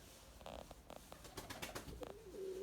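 Pigeons coo while flying overhead: a few soft, brief coos and calls come in scattered bursts, faint and somewhat distant, against quiet outdoor background noise.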